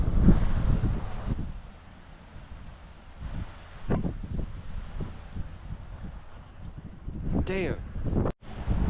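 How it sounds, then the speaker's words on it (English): Strong wind on a mountain pass buffets the microphone in heavy, gusting rumbles that rise and fall, with someone speaking briefly between gusts. "It's extremely windy."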